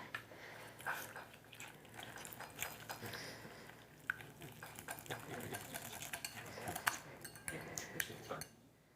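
A spoon stirs milk into a thick cream cheese glaze in a bowl, giving soft, repeated clinks and scraping with small sharper taps against the dish, close and steady throughout.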